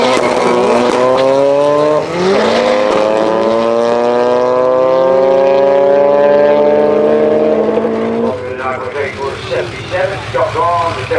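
Volkswagen Golf drag car, the dark side development, at a multi-track UK drag racing weekend, its engine revving hard and climbing steadily in pitch for several seconds, loud and close, before the note drops off and choppier engine noise follows.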